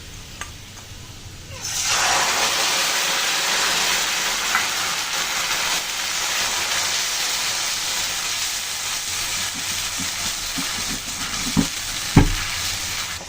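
Spice paste with mustard poured onto fried onions browned crisp in a pan for a fish and banana dish, bursting into a loud, steady close sizzle after a quiet start, with a few clinks of a spoon near the end.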